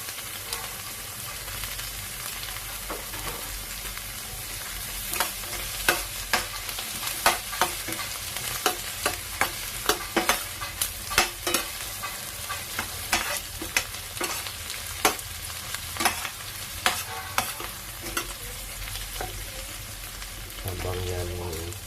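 Ginger stirred and sautéed in a frying pan, a spoon or spatula scraping in a series of sharp clicks over a continuous hiss of sizzling oil for about twenty seconds, fairly close.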